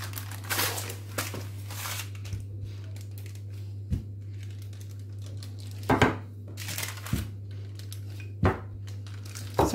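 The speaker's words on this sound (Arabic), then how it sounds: "ونزوق البابيي ونلويها، نبدا نلوي فيها" Parchment paper crinkles and rustles as it is wrapped and twisted around a chocolate spiral sablé cookie roll, with short crisp crackles and soft taps near the hands over a steady low electrical hum.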